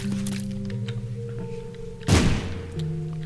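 A bomb explodes in The Binding of Isaac video game, one sharp thudding blast partway through that cuts across steady electronic game music, then quickly fades.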